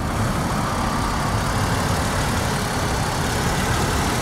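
2001 Mercedes-Benz C320 W203 with a 3.2-liter V6 idles close by, a steady, even rumble with no variation throughout.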